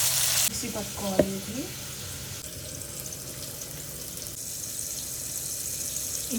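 Bitter gourd pieces fry in a pan, a soft steady sizzle with a brief stir or clink near the start, quiet and close.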